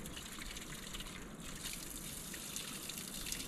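Spring water gushes and splashes steadily into small plastic water bottles outdoors, a continuous close, moderately loud rushing pour with no voices.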